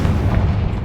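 A Confringo spell explosion in Hogwarts Legacy, heard as a dense, loud rumbling blast that fills the short moment with sustained low boom and crackle, no talking over it.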